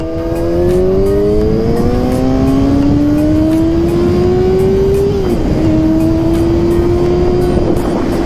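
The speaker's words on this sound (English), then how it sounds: "All you need is to twist that throttle a little bit, and that's it. Goes." A Yamaha R6 motorcycle engine revs hard and close as the throttle twists, its pitch climbing steadily, dipping briefly, then holding high. The loud, continuous whine plays alone with no talking.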